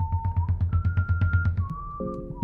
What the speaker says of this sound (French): Sifflotte.